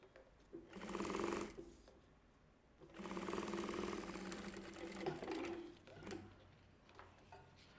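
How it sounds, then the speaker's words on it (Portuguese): A sewing machine stitches a small pink fabric strip for a mini backpack, running in two steady bursts of a few seconds each with a pause between, close and fairly loud, followed by quieter handling. "Bora lá costurar."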